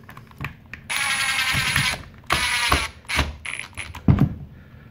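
An impact driver set to speed one drives screws into the housing of a Bauer 1-1/8 inch SDS variable-speed rotary hammer, with short whirring, rattling bursts up close, brief pauses and a few handling knocks.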